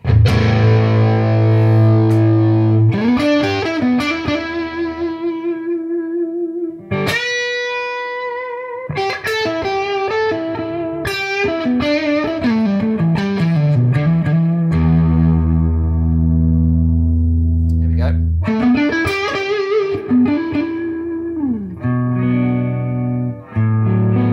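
A warm, overdriven electric guitar on its neck humbucker pickup plays chords and melodic runs with chorus and effects, ringing out clearly for a long stretch with brief pauses.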